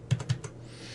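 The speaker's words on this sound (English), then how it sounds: "or by typing in table at the command line." A short burst of typing on a computer keyboard while entering a table command, with three or four quick, close key clicks in a row followed by quiet.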